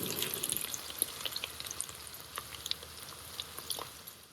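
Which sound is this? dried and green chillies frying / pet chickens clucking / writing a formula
dried and green chillies frying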